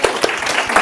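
Conference audience clapping after a journalism ethics panel, a brief dense burst of applause heard close.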